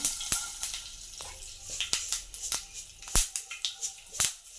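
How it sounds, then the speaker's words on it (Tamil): Mustard seeds and fenugreek fry in a little hot oil, a hissing sizzle broken by frequent sharp pops and crackles, close and steady with no talking. "கொஞ்சமாக எண்ணெய் ஊற்றிருக்கோம்ப்பா. எண்ணெய் காயட்டும். கொஞ்சமாக கடுகு, வெந்தயம்ப்பா,"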